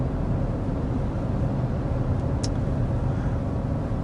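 Inside the cabin of a 2025 Hyundai Tucson hybrid SUV on rough road, a constant low, dense rumble of road and tyre noise holds steady throughout, broken once by a brief faint high tick.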